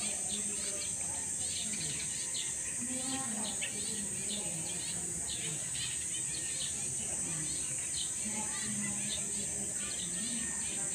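A small bird called a kalapit-pit, perched beside a statue of Jesus at the National Shrine of Padre Pio in Santo Tomas, Batangas, gives repeated high chirps over a constant outdoor bed of crickets and insects.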